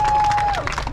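Brief burst of crowd applause at a rally championship awards ceremony, continuous clapping with a faint whistle-like tone, lasting about a second.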